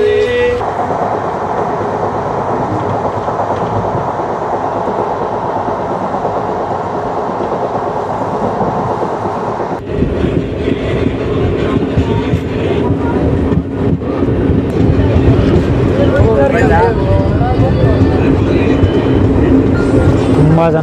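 Rumble and rhythmic clatter of a moving passenger train on the Yelahanka to Kacheguda (Hyderabad) route, heard from inside a coach, loud and continuous, with the rattling growing busier midway.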